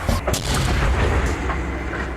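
Continuous heavy rumbling blasts and booms in Craigieburn, loud and close, scattering shrapnel, with sharp cracks layered over a dense low roar throughout.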